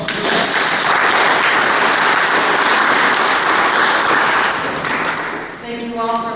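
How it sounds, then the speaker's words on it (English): Loud, dense crowd applause fills a hall at a candidates' platform event, steady for several seconds and then tapering off, with voices emerging near the end. "Let's give her a round of applause."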